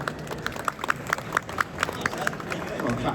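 A single panelist named John claps at a panel discussion, about ten quick, fairly even claps over a background of crowd murmur and room noise.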